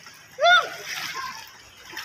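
A loud splash as a person jumps and plunges into water, followed by sloshing. A voice rings out at the moment of impact.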